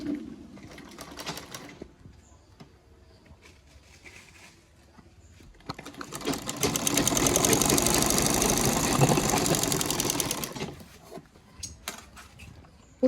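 A sewing machine stitching, running in a sustained rapid mechanical whir that rises loudly in the middle and then winds down, with quieter clatter and handling before and after.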